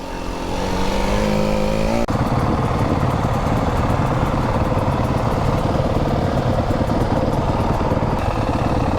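A Yamaha motorcycle engine runs steadily on a trail ride, a loud continuous rumble heard close up that holds at a constant level throughout with no speech over it.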